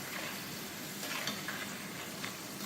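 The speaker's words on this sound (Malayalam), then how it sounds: "എണ്ണ നല്ല ചൂടായി കിടക്കുക. അപ്പം പിന്നെ ഇതങ്ങ് ഇതിനകത്ത് വറുക്കാമെന്ന് വിചാരിച്ചു." Steady sizzling of food frying in hot oil beside chips, a dense continuous crackle close up, with occasional stirring and no voices.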